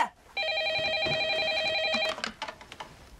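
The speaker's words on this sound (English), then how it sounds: "Kids, David, answer the phone" An old-style telephone bell rings in one sustained electronic trill lasting nearly two seconds in a motel room, then cuts off, followed by faint clatter and handling sounds.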